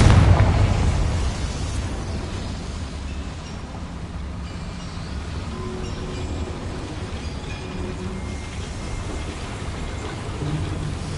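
A Confringo spell blast in Hogwarts Legacy opens with a loud booming burst, then settles into a low, sustained rumble that carries on for several seconds.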